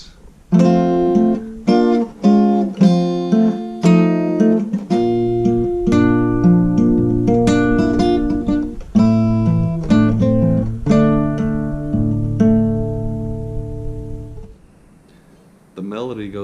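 Fingerstyle guitar plays the break section of a song in F, with plucked notes and chords ringing in a steady, bright line that fades out near the end.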